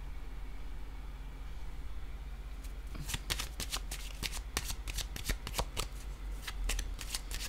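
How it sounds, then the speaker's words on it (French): Tarot cards are shuffled and laid down during a card reading, a quick run of crisp riffling snaps and flicks starting after a quiet moment, close and fairly soft over faint room hiss. "Je vais déposer une carte ici."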